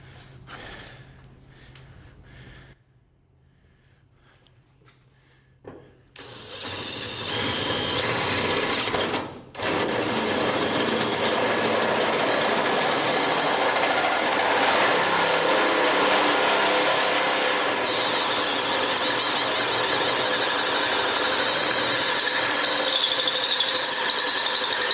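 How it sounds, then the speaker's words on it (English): A power drill with a hole saw cuts through the steel hood of a 1972 AMC Javelin, a loud sustained whining grind running continuously for about fifteen seconds after some quieter handling noises. "I got that drilled, and as drilling it goes, your center pilot pops a hole through the top."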